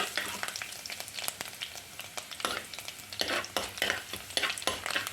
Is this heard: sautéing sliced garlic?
yes